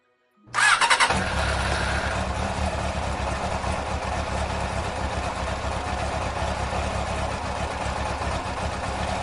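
A motorcycle engine fires up after a brief crank and settles straight into a loud, steady idle that runs close by, with no talk.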